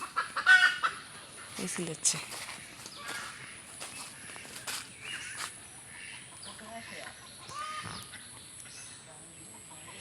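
Chickens clucking from up in a tree at dusk, scattered soft clucks and squawks at a distance, with footsteps nearby and a brief spoken word.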